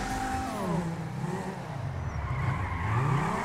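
A car drifting in a parking lot in GTA 5 has its engine revving up and down continuously, the pitch swooping and wavering as it slides, loud and close with no talk over it.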